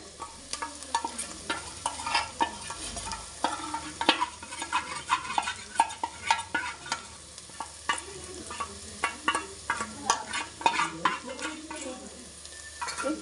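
Masala spices frying on a low flame for butter chicken, stirred with a spoon in a pan: a close, continuous sizzle broken by regular scraping strokes and light clinks of metal, no voices.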